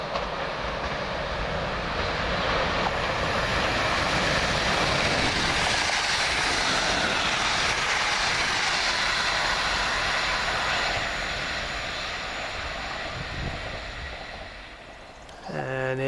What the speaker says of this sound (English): Come around the corner, the opposite number, 1 Uniform 19 from Gatwick Airport to London Victoria for Gatwick